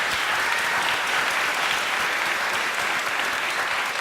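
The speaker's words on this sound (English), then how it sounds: "Please give Amy a round of applause." Steady, dense applause from a seated audience at a neighborhood panel discussion in Crown Heights, New York, welcoming a panelist; even and sustained throughout, with no voices over it.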